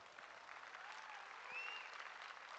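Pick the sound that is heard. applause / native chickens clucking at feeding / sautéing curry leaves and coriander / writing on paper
applause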